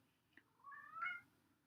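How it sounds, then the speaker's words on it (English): A single domestic cat's meow, nearby but fairly soft, rises and falls over about half a second against a quiet room, preceded by a faint click. "If you hear a meow, it is my cat."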